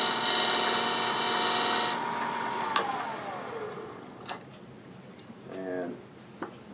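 A wooden chickadee ornament spins on a lathe as the tool tapers it, a tonal whirring hum that winds down after a couple of seconds, followed by scattered clicks and soft scraping.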